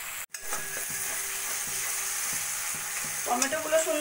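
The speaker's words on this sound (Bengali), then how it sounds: "এইভাবে নাড়া দিতে দিতে যতক্ষণ না টমেটোগুলো গলে যাচ্ছে ততক্ষণ আমি ভাজা ভাজা করে নেব।" Tomatoes with spices fry in a pan for egg curry while being stirred until soft, making a constant close sizzle broken by regular spatula scraping strokes.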